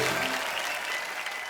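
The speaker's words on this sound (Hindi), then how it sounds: "एक बार सभी के लिए जोरदार तालियां हो जाए" Studio audience at a Hindi comedy talk show breaking into steady, dense applause, loud and continuous throughout with no talk over it.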